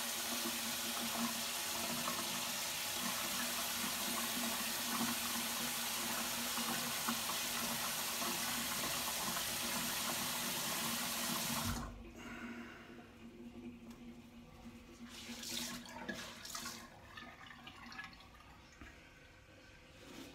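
Water runs steadily from a tap while a razor is rinsed, a loud continuous splashing that stops abruptly, leaving faint clinks and handling sounds.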